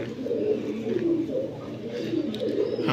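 Large-headed Cheetah military pigeons coo in low, soft rolling calls close by, overlapping continuously for a few seconds without talk.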